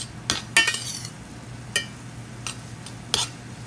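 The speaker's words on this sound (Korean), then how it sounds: "약간 이게 볶은 볶는다는 느낌이 아니라 약간 비빔 느낌으로 가자 좀 더 잘 비벼서" Rice being stirred and mixed in a pan while cooking, with scattered clinks and scrapes of a utensil against the pan over a quiet steady background hum.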